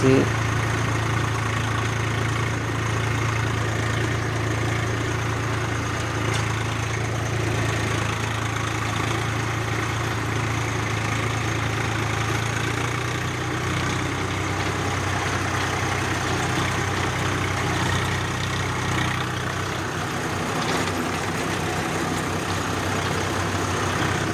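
A farm tractor's engine runs as it turns in a field in Patan district, Gujarat, giving a steady low droning hum that holds unbroken throughout, with faint voices now and then.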